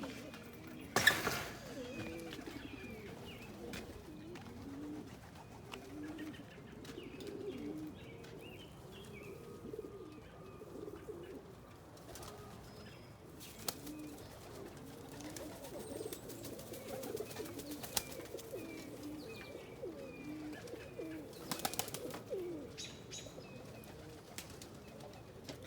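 Pigeons coo softly and continuously inside a coop housing extra birds and breeders, with occasional wing flaps and rustles, the low murmuring steady for nearly half a minute at moderate-to-faint level.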